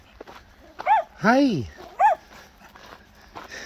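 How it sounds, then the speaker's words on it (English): A dog barks a few times, sharp and fairly close, with a person briefly calling out between barks, on the walking route from Portomarín to Palas de Rei. "This dog has come running out of nowhere."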